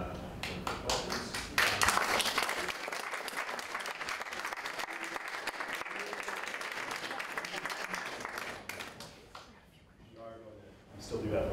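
Sustained applause from a debate audience after audience questions at an undergraduate economics debate, dense clapping filling most of the stretch before thinning out, with voices murmuring underneath.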